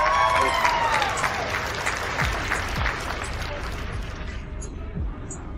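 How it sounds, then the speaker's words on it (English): Applause from an online audience on a video call, honoring a woman, sounds as a steady wash of clapping that continues under brief voices and thumps before thinning slightly toward the end. "Give her a round of applause, please"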